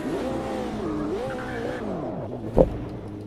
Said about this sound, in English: What a terrible place to spin out.